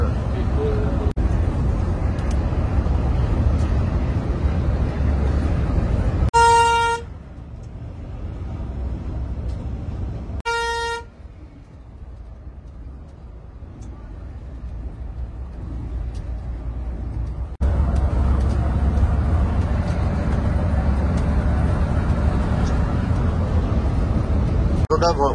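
Riding inside a Volvo B8R bus on the Dhemaji route, a steady low engine and road rumble fills the cabin, with two short electronic beep chimes and a quieter stretch before the drone returns, and people talking over it.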